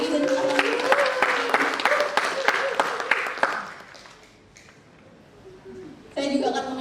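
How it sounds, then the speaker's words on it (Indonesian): Brief audience clapping at a symposium session, sharp hand claps for a couple of seconds, fading into quiet, then a speaker's voice returns. "Tepuk tangan untuk Kak Diki dan teman-teman."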